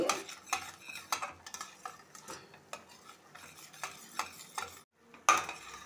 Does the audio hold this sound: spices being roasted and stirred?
yes